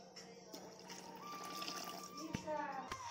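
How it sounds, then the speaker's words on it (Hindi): Water pours and trickles into cream for churning homemade butter from malai, fairly quiet, with a few small clinks of the container. "अब हम इसमें अपना पानी डालेंगे"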